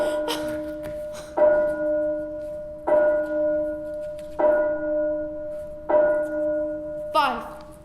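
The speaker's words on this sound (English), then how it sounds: "5 bells, Will." A church bell tolls five evenly spaced strokes, each ringing out and slowly fading before the next, loud and resonant, with a brief rustle at the start.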